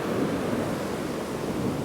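Waves break on a beach at Bee Sands in South Devon under a big swell, a continuous loud wash of surf with no talk heard.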